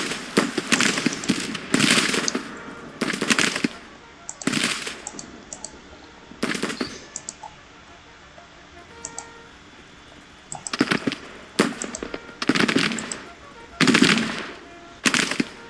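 Bursts of gunfire from a Civil War strategy game crackle in irregular volleys, loud and sharp, separated by quieter stretches of faint ambience.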